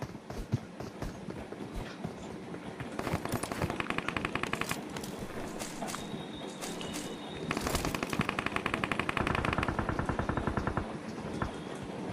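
Rapid bursts of automatic gunfire from the BGMI battle royale game, heard close and loud in repeated rattling strings with short gaps between volleys and game footstep sounds underneath.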